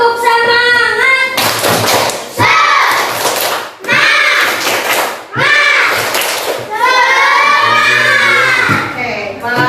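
Classroom pupils perform a rhythmic spirit clap led by a classmate, bursts of clapping and chanted children's voices alternating in quick patterned phrases, loud and close in a room.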